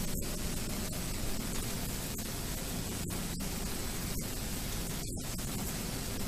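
Gas torch in the Alien: Isolation video game, giving off a steady, loud hissing roar that runs unbroken throughout, with a few faint clicks on top.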